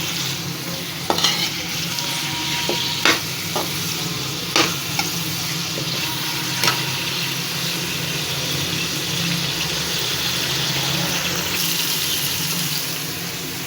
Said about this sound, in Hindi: अब इसमें चिकन डाल देते हैं। इसको भी थोड़ा भून लेते हैं।